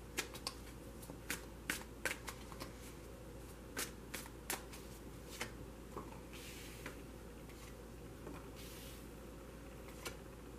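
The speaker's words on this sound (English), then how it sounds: "so I'm only going to shuffle it for a moment." A pre-shuffled tarot card deck being shuffled briefly by hand, giving a run of crisp riffling bursts and soft card slaps, fairly close and with no talking.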